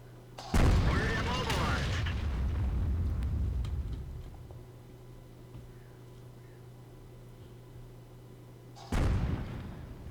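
Two loud booming cannon shots from an SU-85 tank destroyer in the World of Tanks video game, the first followed by a long decaying rumble, the second near the end.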